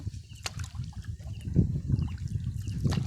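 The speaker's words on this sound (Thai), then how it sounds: "น้ำจะไหลลงใส่อ่างน้ำซุยพี่น้อง" Stream water trickles and flows steadily into a village reservoir at Huai Sui, a soft continuous gurgle with low rumble, close by and without talk.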